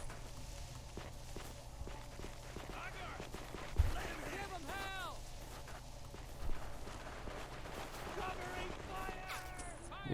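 Scattered small-arms gunfire in the World War II strategy game Men of War: Assault Squad 2, soft distant shots popping irregularly amid battle noise and background ambience, with one louder nearby crack.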